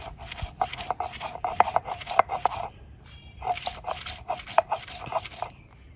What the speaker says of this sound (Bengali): আমি এগুলা পাটায় বেটে নিচ্ছি